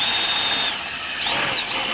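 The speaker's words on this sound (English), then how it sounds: "so hopefully quickly drill a little hole" Close, loud whine of a power drill with a hole saw cutting through a 2023 Jeep Grand Cherokee 4xe Trailhawk front end for a baseplate mount, the pitch dipping briefly under load before rising again.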